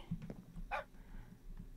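A pet dog in the Minecraft video game gives a short whimper followed by brief yelping sounds, small and game-like against quiet background.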